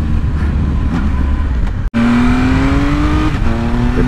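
Triumph Speed Triple RS motorcycle engine blips sharply during a downshift, the quickshifter-style rev cutting out briefly then rising again in a loud, close, steady engine drone.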